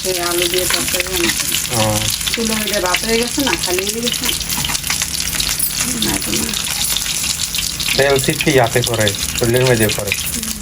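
Pangas fish fry in a pan with a loud, constant sizzle and crackle, the hiss persisting under a woman's steady speech throughout.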